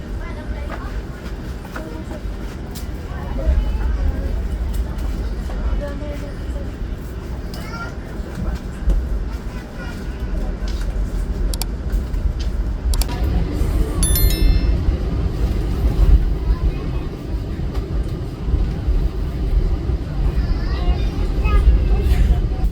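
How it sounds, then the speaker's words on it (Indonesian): KRL commuter train pulling into a platform at Pasar Senen station in Jakarta, heard from aboard another train: a steady rumble and clatter of rolling rail cars with rising noise and a brief metallic squeal, under ongoing talk. "Ada KRL baru datang juga tuh di jalur berapa itu?"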